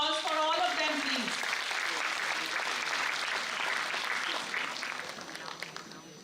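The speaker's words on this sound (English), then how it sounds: "Can we have a huge round of applause for all of them, please?" Seminar audience applauding students and volunteers, a dense wash of clapping filling the room, with a voice speaking over the first second before the applause carries on and tapers slightly toward the end.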